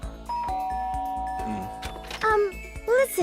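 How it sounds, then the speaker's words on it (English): A chiming doorbell in the video game Danganronpa: Trigger Happy Havoc plays a few clear, ringing tones over game music, followed by short bursts of a character's voice. "I guess I should press the doorbell."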